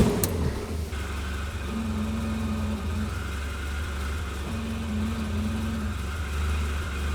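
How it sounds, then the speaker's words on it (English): A running Amphicar engine turns its prop shaft, giving a steady close mechanical hum with a low droning tone throughout and brief whining harmonics that rise and fall twice. "there's your prop shaft running up there"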